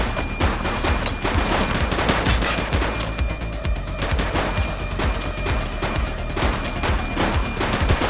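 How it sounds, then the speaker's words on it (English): Sustained bursts of automatic and single-shot gunfire rattle through a police shootout in the Precinct video game on Xbox Series X, loud and dense throughout with overlapping rapid shots. "Light them up! He's shooting!"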